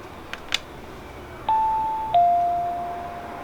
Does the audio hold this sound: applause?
no